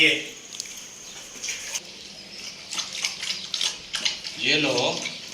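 Cold, clean water trickles and splashes while being poured for Lily, a pet bird in a new cage, with faint chirps and soft clinks around it.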